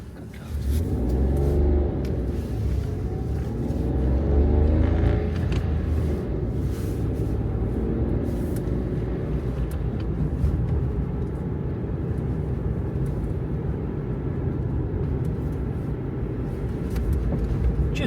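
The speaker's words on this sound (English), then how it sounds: "What I might do is drive a little way along." Small car driving along a frosty, icy road, heard from inside as a steady, loud engine and road rumble that continues without a break.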